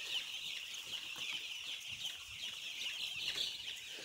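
A dense chorus of broiler chickens clucks and chirps steadily inside a poultry house, many birds at once forming a continuous, moderately faint murmur with no talk.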